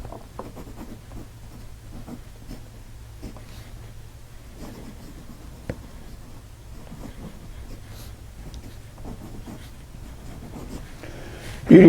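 Parker Mark V Victory fountain pen from the 1950s writing on paper, a faint continuous scratchy glide with small irregular strokes, close up and steady throughout, with no talk.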